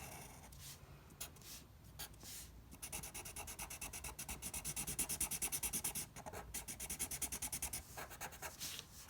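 A pen or pencil draws a honeycomb pattern on paper, making close, soft scratching strokes that come in quick rhythmic bursts and grow denser and louder partway through.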